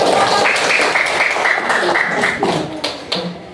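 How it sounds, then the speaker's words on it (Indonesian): Classroom of students clapping for two classmates, a dense patter of hand claps that stays steady for a few seconds and then thins out, with no talk over it. "Kasih tepuk tangan dulu untuk Aulia dan Dian."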